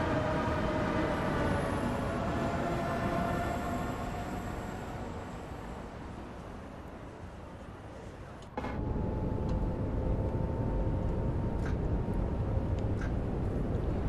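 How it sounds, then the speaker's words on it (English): A steady, even rumble comes from a train cab in the Train Sim World 6 video game, with a fan-like hiss and faint ticks throughout. The drone shifts in tone partway through. "I really do enjoy driving this train. It's not noisy."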